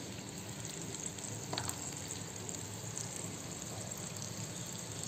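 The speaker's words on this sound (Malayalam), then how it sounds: "ഇതവിടെ വെള്ളം നന്നായിട്ട് ഒന്ന് തിളച്ചിട്ടുണ്ട്." A pot of water with salt and turmeric boils on the stove, a steady close bubbling hiss that stays even throughout with no voices.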